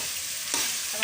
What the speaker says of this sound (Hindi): हम इसमें डालेंगे हरी प्याज, अच्छी तरीके से पकाएंगे।